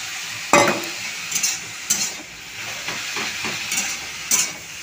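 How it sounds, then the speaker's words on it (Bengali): Fried fish roe is stirred in a frying pan with sizzling, scraped by a utensil in several distinct clinks and strokes over a steady soft frying hiss. "ভেজে রাখা মাছের ডিমগুলো সব দিয়ে দিলাম।"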